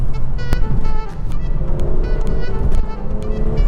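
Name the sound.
BMW M240i xDrive accelerating hard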